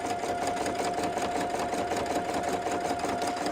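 A PFAFF Creative Expect 350 sewing machine stitches a small zigzag, its motor humming steadily with a fast, even needle rhythm, close and fairly quiet, and no talking.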